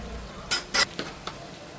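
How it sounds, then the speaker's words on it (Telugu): Green chillies fry in a pan for a small fish curry: a soft, steady sizzle runs underneath while a utensil scrapes and clinks against the pan four times in quick succession. "పచ్చిమిరపకాయలు వేసుకొని కాసేపు వేపుకోవాలి."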